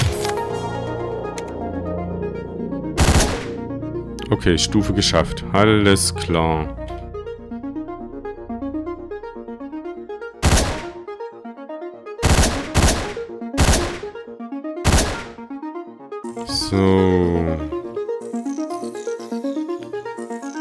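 Hotline Miami gunfire: loud single shots and rapid bursts ring out at intervals over steady background music, with someone speaking briefly in German between them.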